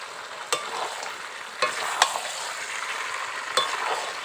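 Chicken curry masala with Kashmiri chili sizzles steadily in a pan while a spoon stirs through it, giving a few sharp scraping knocks against the pan over a soft, constant frying hiss, close and moderately quiet.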